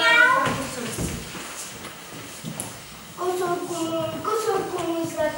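A cat meows over background music in a Czech fairy-tale film, with a few drawn-out mews near the start and again toward the end.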